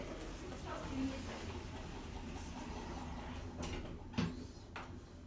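Lift doors in a Lincoln town centre building slide shut quietly, a faint mechanical whir with a soft thud of the doors meeting near the end, under a low hum.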